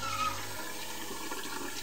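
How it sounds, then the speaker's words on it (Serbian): Water runs from a tap into a pot for noodles in a small house kitchen, a steady close rushing fill that holds at an even level throughout, with no voices. "puni vodu."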